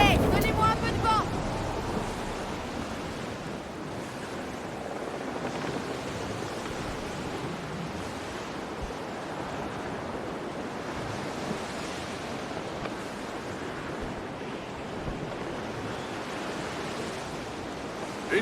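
A sailing ship moves across ocean waves in Assassin's Creed Black Flag, a steady broad rush of surf and wind noise that stays constant and fairly loud throughout with no distinct breaks.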